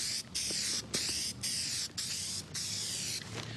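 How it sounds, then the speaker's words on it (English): Contact adhesive sprayed from a can onto surfaces for an aluminium wall in an Airstream trailer restoration, a series of about six steady hissing bursts separated by brief pauses, close and moderately loud. "the thing about a contact adhesive is that you need to spray both surfaces."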